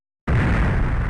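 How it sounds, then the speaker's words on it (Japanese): An explosion in the video game Galaxy Angel II erupts suddenly out of silence, a loud booming blast with a sustained rumbling roar that continues after the initial hit. "爆発だ。"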